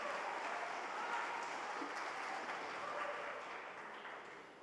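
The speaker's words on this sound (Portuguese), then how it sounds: "Glória a Deus, pode aplaudi-lo." A church congregation applauds in a sustained, even wash of clapping that holds steady and then slowly fades toward the end.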